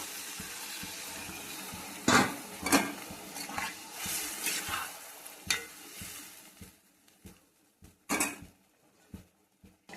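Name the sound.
spices sizzling in a pan as water is added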